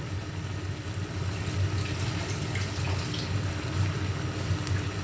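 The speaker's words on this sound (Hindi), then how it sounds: "चम्मच ले लूँ, चम्मच को धो लूँ।" A spoon is rinsed under a running kitchen tap, giving a steady, even rush of water throughout with a faint low hum beneath and no talking.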